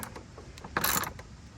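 A nut being tightened on a wood fence door gives off a short burst of metallic ratcheting clicks near the middle, with faint scattered taps and handling noise around it and no talking.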